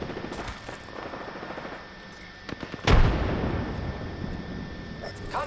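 A frag grenade detonates in Apex Legends: a heavy, booming explosion bursts out suddenly after a few light clicks and shots, then leaves a rumbling tail under the game's ambience.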